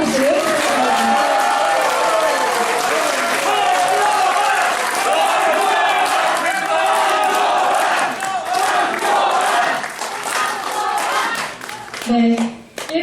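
Audience at a Korean election-fraud debate forum in a press center hall claps and cheers in a sustained, dense wave, with voices mixed in, before the applause thins out near the end.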